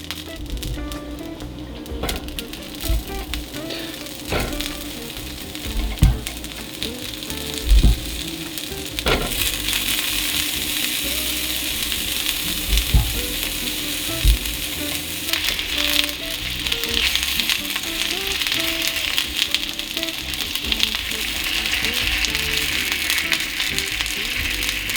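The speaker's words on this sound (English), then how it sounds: "And now I'm just gonna pan fry" Vegan Italian sausage pan frying, a constant crackling sizzle that grows louder and denser partway through, with occasional knocks and utensil clatter, close and without talk.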